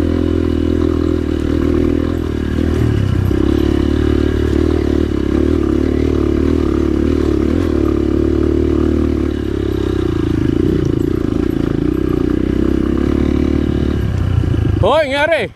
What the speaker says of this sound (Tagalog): Andar pala ng motor